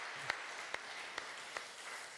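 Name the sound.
applause for the church orchestra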